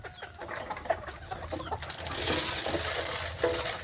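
A flock of chickens clucking and pecking while being fed a fine powdered feed coated with dewormer, with a busy, scratchy bustle of birds close by and a few louder calls rising over steady background noise.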